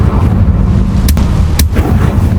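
Two sharp fiery blasts of the Confringo spell in Hogwarts Legacy burst about half a second apart, loud and close over a constant rumbling ambience.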